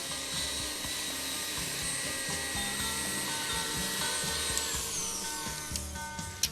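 A high-speed electric mixer whips cream with sugar toward stiff chantilly peaks, a dense continuous whine with rhythmic beater rattle that holds steady throughout.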